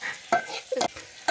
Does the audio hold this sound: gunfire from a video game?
no